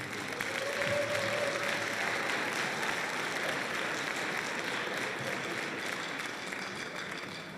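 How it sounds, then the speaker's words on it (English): Audience applause fills a school band concert hall, a dense, steady wash of clapping that stays loud for several seconds and then starts to fade slightly toward the end. "Please give a round of applause"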